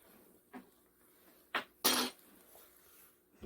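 A few sharp clinks and clatters of dishes and cutlery being washed, scattered bursts over quiet background, fairly close.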